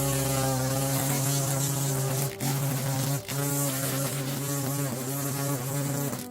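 A string trimmer edges grass around a cemetery headstone, its engine giving a steady, buzzy, close drone with two brief dips, no talking.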